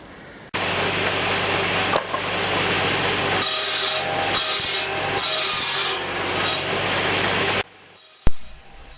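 A loud, steady mechanical whine of a tractor-driven Ferguson cordwood saw, powered by an International 275 tractor, cutting through hazel wood, a continuous harsh rasp lasting several seconds before cutting off abruptly.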